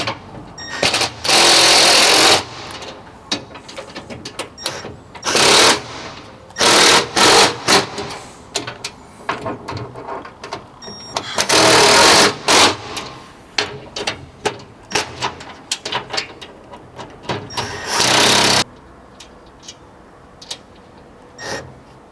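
A power tool drives nuts and bolts on the base plates of a metal cargo rack, several loud buzzing whirrs of a few seconds each, separated by quieter handling clicks and knocks.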